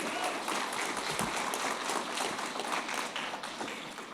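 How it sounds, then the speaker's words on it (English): A ceremony audience applauds a student being recognised, sustained clapping from many hands at moderate level, steady with scattered sharper claps standing out. "give her a round of applause"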